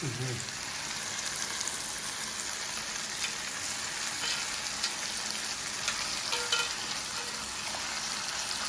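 Mutton sizzles steadily in a hot pan, a constant close hiss with small crackles and pops scattered throughout.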